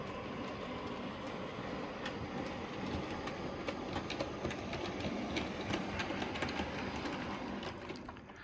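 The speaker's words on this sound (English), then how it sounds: "So I've just run a train out the tunnel now with the trusty V1 on the, oh sorry, not V1, V2 on the front." A model railway train pulled by a V2 locomotive runs out of a tunnel, giving a continuous close whirring rumble with fine rapid clicking of wheels over track joints.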